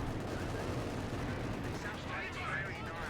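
Sustained gunfire from the video game Company of Heroes 2, a dense rolling torrent of weapon fire with distant booms under a commentator's continuous voice.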